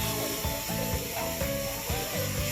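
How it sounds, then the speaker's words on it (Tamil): Prawns are stirred into a Chettinad-style masala in a pan, giving a steady sizzle with repeated scraping and clacking strokes of the spoon against the pan. "நல்லா கிண்டி விட்டுக்கோங்க நம்மளோட இறாலையும் நம்ம மசாலாவையுமே"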